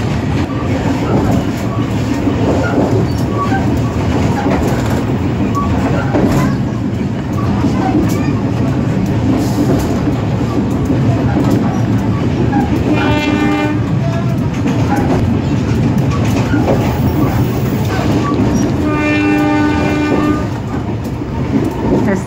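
A local Cibatuan passenger train hauled by a CC201 diesel locomotive, heard from just behind the engine: a loud, steady rumble with rail clatter throughout, and two sustained horn blasts partway through.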